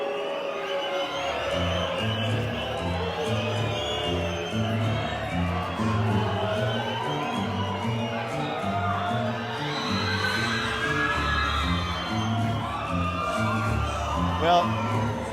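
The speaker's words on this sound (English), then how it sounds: "the women were going nuts, and the guys were booing him" At a bantamweight boxing event, an arena crowd roars at a ring card guy with sustained loud cheering, shouting and whooping, while a commentator's voice runs over a rhythmic music beat.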